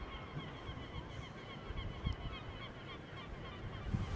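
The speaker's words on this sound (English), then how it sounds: "I'm surrounded by these seagulls that they bark like dogs, they scream like kids." Harsh, honking seagull calls repeat at a distance over steady wind and surf noise on a rooftop in Essaouira, Morocco, with a couple of louder squawks standing out.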